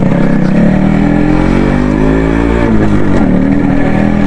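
A motorcycle engine runs steadily and loudly up close during a morning city ride, holding a continuous throbbing drone that rises and falls slightly with the throttle throughout, with no talk over it.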